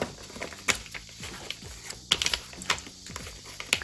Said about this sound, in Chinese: 把它对折